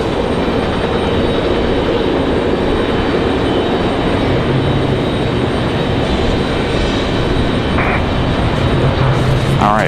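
Airliner bound for Frankfurt moving on the ground at Raleigh-Durham airport, a loud, dense, steady engine rumble and hiss filling the whole stretch, with a few brief higher tones near the end and no talk.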